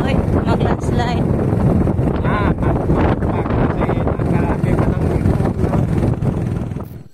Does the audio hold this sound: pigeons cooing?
no